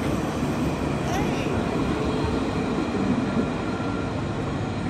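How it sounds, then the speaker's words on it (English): A tram passes at night on a street in Tours, France, giving a steady low rumble and hum that stays fairly even and moderately distant throughout. "These Trams come by every couple minutes"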